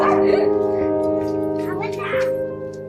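A dog yips and whimpers up close in short repeated bursts, with people talking over the sounds.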